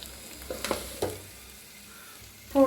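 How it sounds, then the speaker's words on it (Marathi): Egg frying with masala in a pan gives a quiet, steady sizzle with a few soft scraping stirs near the start and a brighter crackle at the very end; no talking. "मस्त असं भाजले जाते अंड"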